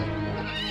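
A horse gives a loud, close whinny after being struck. The neigh is a bright, harmonic cry held for under a second with no talk over it.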